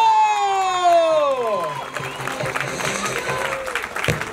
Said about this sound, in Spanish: ¡El aplauso para usted, maestro!